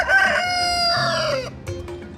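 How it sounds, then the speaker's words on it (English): Close, loud rooster crow: one drawn-out cock-a-doodle-doo lasting about a second and a half, trailing off into softer clucks. "Oh, that's a rooster, actually."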